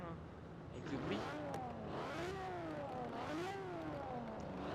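A Ferrari 250 California engine in the Forza Horizon 4 video game revs up and down in repeated rising and falling sweeps, with a fairly quiet, mid-pitched old-style engine tone throughout.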